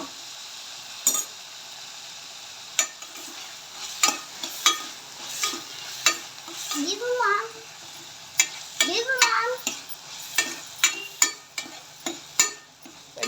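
A spoon stirs and scrapes through a sizzling sauté in a pan while ven pongal cooks. Irregular scraping strokes sound close over a steady frying hiss, with a few brief clinks.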